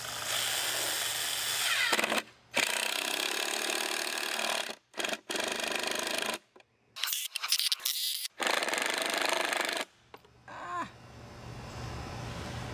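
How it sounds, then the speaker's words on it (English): A power drill whirs in several long bursts, driving screws into 5-inch wooden boards, with short pauses between runs and a few quiet gaps. "we're going to screw these together"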